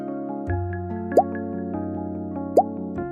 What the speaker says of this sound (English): we're going to add drops of oil to our dish of water